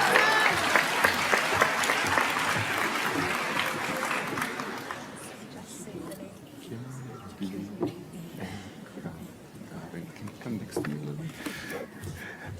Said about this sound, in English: Next is Melissa Page Jones, a big applause, congratulations.